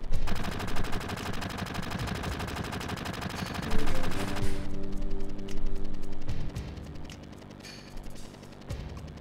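Gunfire rattles in Final Fantasy VII as a rapid, continuous automatic burst over dense game music, then thins into scattered shots. No voices.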